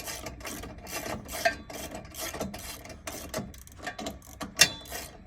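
A ratchet tightens 13mm bolts on a Ford Bronco top, making quiet, repeated clicking and rasping strokes at an uneven pace close by, with no speech.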